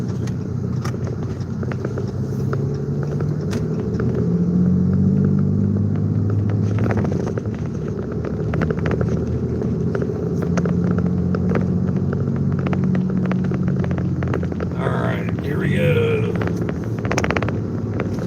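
A truck engine with 1,100 pound-feet of torque pulls hard, a loud continuous low rumble heard from inside the cab with droning tonal engine notes rising and falling, faint rattles and a brief voice near the end.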